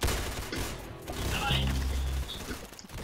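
Rapid gunfire bursts in the Roblox shooter game Arsenal, loud clustered shots over a busy game soundtrack with other game noise.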